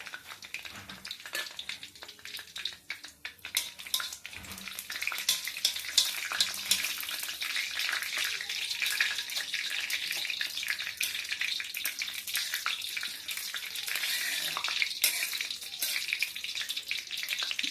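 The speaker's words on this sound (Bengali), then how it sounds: "এটা আমি সাদা তেল দিয়ে বানাচ্ছি, ঘি দিয়ে বানাচ্ছি না। দিলাম শুকনো লঙ্কা।" Dried red chilies hitting hot white cooking oil in a pan, a bright crackling sizzle that swells after a brief rustle and stays loud and dense, with some stirring scrapes.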